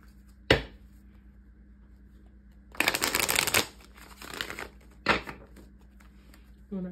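Tarot cards are shuffled in several short, crisp riffling bursts, with one longer shuffle in the middle and brief quiet gaps between, close and clear against a low background hum.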